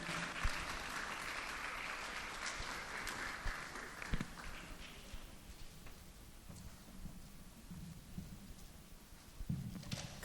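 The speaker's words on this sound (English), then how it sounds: "A round of applause for her, please." Audience applause at a TEDx Youth event welcoming a young singer to the stage, a broad wash of clapping that is steady at first and then thins and softens, with no talk over it.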